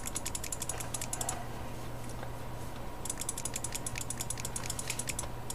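Rapid bursts of mouse clicks while playing Cookie Clicker, quick crisp clicking in two runs separated by a short pause, close and steady over a low hum.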